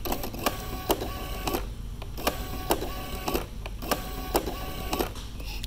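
A handheld inkjet printer prints onto clothing with repeated mechanical printhead passes, a steady whirring broken by regular clicks and short bursts roughly every second, close and fairly loud with no talking.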